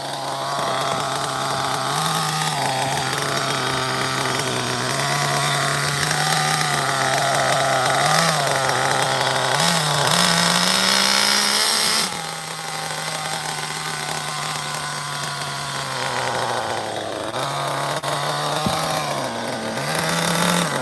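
A Mugen Super Athlete engine idles steadily on its first start, a loud continuous buzzing drone whose pitch sags and recovers several times as the idle keeps dropping, heard alone without talk.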